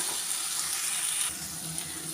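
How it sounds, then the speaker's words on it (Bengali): Spice paste sizzles and fries with papaya in a pan over a medium gas flame, a steady close hiss with a slight drop partway through. "মশলাটাকে পেঁপের সাথে এখন কিছুক্ষণ এইভাবে আমি এক মিনিট মতো এরকম গ্যাসের ফ্লেম মিডিয়াম করে দিয়ে এটাকে ভাজা করে নেবো"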